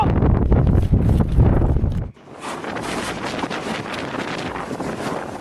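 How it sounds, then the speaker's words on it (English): Strong wind from a tornado buffets the microphone in heavy, roaring gusts, first mixed with low rumbling, then after an abrupt cut a steady broadband rush continues at high level. "This was only a gentle wind, not even its true strength"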